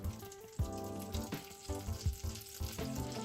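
Butter melting in a skillet or pot over medium heat, softly sizzling and crackling at close range beneath steady background music, with a few sharper pops.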